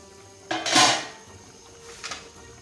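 A metal lid is lifted from a pot of Afghani beef pulao, a bright clanking burst, followed by a fainter clink a moment later.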